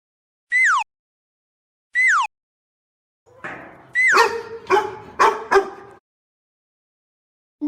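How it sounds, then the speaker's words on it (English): A dog barks several times in a quick, close series, a few sharp yelps following a short whimpering lead-in, with a couple of brief high chirping tones heard beforehand. "Dog."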